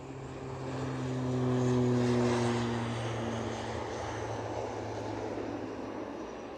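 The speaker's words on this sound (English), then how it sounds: "Ooh, ATR moving." ATR turboprop airliner engines moving at Edinburgh Airport, a steady droning hum with propeller tones that swells over the first couple of seconds, then settles into a continuous, moderately distant rumble.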